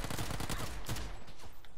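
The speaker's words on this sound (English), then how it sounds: "I hear gunfire coming towards me" Rapid gunfire from a video game, a quick run of sharp shots fired in fast succession with a short burst of louder reports near the middle, moderately near and heard without talk.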